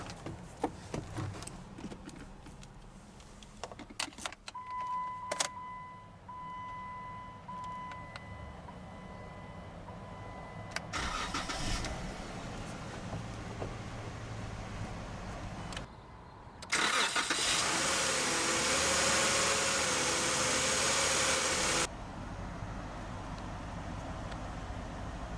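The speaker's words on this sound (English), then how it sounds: "let's go ahead and start the engine" A 2012 Jeep Wrangler Sahara engine cranks and fires up partway through, then settles into a steady, loud idle that continues to the end, heard close up with no talking.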